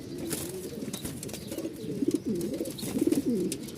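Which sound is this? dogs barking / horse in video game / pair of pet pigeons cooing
pair of pet pigeons cooing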